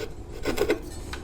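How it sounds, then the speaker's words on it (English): A handsaw cuts waste wood from dovetails in a small wooden pipe and tobacco box, giving a brief close rasping stroke or two of dry scraping. "For these parts that's left in there, I'll just use the handsaw and I'll cut them out."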